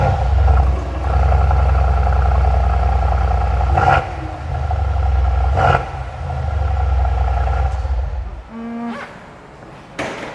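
A 2019 Mercedes-AMG C63 S engine revs loudly indoors in a showroom, a sustained throbbing roar broken by a few sharp blips and short pauses, close and dominant.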